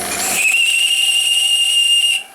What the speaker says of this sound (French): Il est reparti à fond, le régulateur.